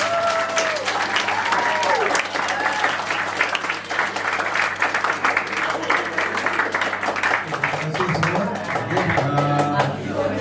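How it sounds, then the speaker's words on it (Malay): School audience at a STEM event applauding, dense continuous clapping throughout with voices and some tonal sounds mixed in, cheering or chatter rising near the end. "Tepuk tangan kepada diri masing-masing."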